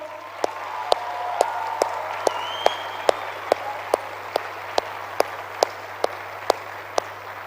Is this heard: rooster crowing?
no